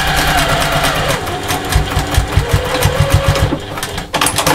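A sewing machine stitches straight across a fabric seam on mesh with binding, a loud, close, continuous motor whir with a fast rhythmic chatter throughout.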